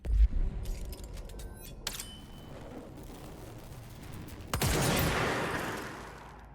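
Bursts of gunfire in the game Control: a sharp volley at the start, a crack near two seconds, then a longer loud rattling burst late on, separated by a quieter ambient hum.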